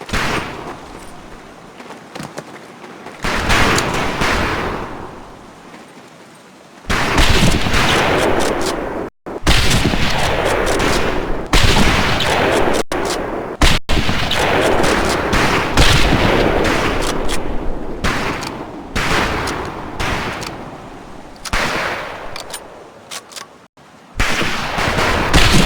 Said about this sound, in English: Scoped rifles available for use today. See how many hits you can get on the long-range targets.